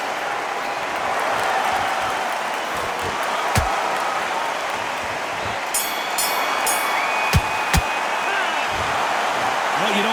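Boxing arena crowd in the Undisputed video game reacting to a draw decision: a steady, dense roar of murmuring and booing spectators with scattered sharp claps and thuds, loud and continuous throughout.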